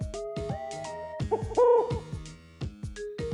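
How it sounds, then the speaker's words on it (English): An owl hoot sound effect from a children's nocturnal-animals sorting game, a few short hoots set among bright musical tones and chimes, fairly loud and close. "Owl."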